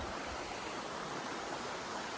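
A small stream runs between coconut and areca palms in a Konkan village near Dabhol, Dapoli, its water flowing in a soft, steady, even rush that sits fairly quiet and close, with no talking over it.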